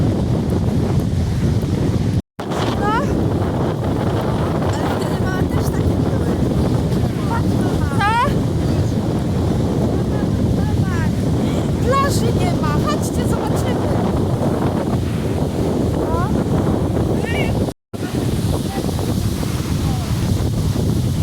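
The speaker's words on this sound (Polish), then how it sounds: "jakie fale są tak wieje, że szok" Strong, cold wind roars across the microphone in a constant heavy rush, with high sea surf and waves churning beneath at a flooded beach; faint voices and brief chirps break through now and then.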